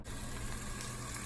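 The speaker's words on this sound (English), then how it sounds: "they are already starting to sizzle" Chicken strips sizzle in a frying pan over high heat, a steady dense hiss and crackle that fills the short stretch, close and even, with no voices.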